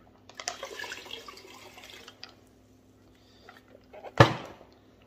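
Water runs from a tap into the barrel of a 12 lb Lortone rock tumbler in a splashy burst lasting about two seconds, followed by quieter drips and a sharp sloshing pour near the end.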